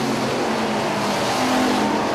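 Hobby stock race cars roar through turns three and four on an oval track, a dense, continuous engine drone blending several cars at a distance, with no nearby talking.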